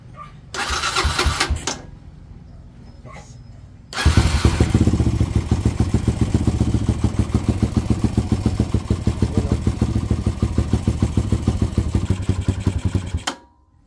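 A Skygo aftermarket starter motor on a KLX150 motorcycle whirs briefly in a first attempt, then cranks the single-cylinder engine, which catches and idles with a rapid, loud, even thump before cutting off.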